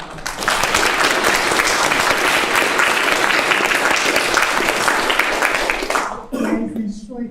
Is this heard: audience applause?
yes